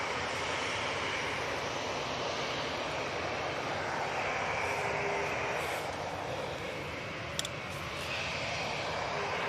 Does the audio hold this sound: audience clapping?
no